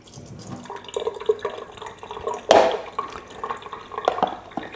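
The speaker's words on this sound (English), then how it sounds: "you want to hold this up over the sink because it may still drip a little bit" Whey left over from straining yogurt drips over a kitchen sink in a few small, irregular drops, joined by one louder splash and some soft handling noise nearby.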